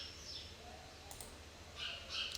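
Soft computer mouse clicks on a desk during an editing session in a face-filter design app, a couple of faint, brief ticks in a quiet room.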